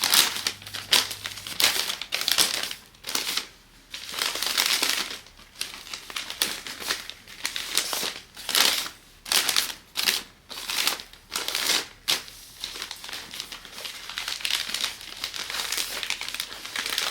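Wrapping paper crinkles and rustles close by as it is pulled up and folded around a flower bouquet, coming in loud irregular bursts with short pauses between handlings.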